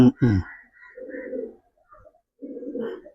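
A pigeon coos nearby in low, soft throaty bursts, with a couple of brief voice sounds at the start.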